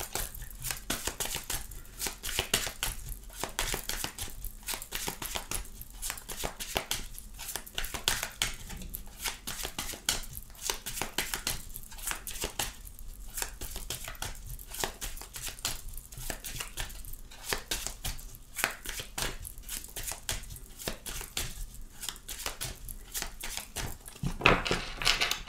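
Tarot cards shuffled for a pyramid spread, a steady run of quick riffling and flicking strokes close up for the whole stretch, with no talking over it.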